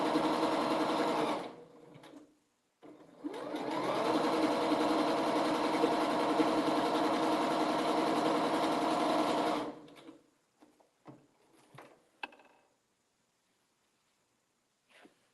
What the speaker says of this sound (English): We're just gonna sew that together.